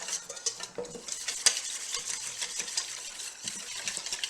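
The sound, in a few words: stirring a sweet potato power bowl dressing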